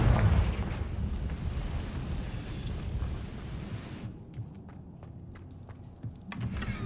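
A Confringo blasting spell going off in Hogwarts Legacy gives a loud, rumbling explosion at the start that decays into a low roar, then fades to quieter crackles and thuds.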